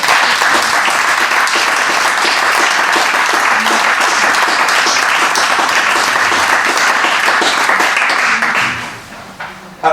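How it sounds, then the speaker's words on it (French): A crowd at a municipal council meeting applauds warmly and steadily for several seconds, then the clapping thins out and fades near the end. "On peut peut-être applaudir."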